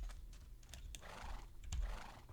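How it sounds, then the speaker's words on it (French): A horse neighs in Minecraft, a faint whinny with soft clip-clop hoofbeats in a quiet underground cave, brief and distant. "Ah, il y a un cheval."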